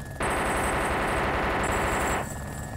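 A loud, continuous burst of automatic gunfire in the video game DayZ runs unbroken for about two seconds as a full magazine is emptied, then cuts off into quiet background. No one speaks.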